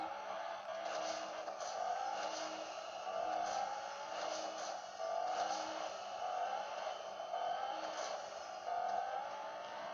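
Race car driving in Fortnite, with a steady engine whine that repeatedly rises in pitch as it accelerates through gears, heard alone at moderate volume.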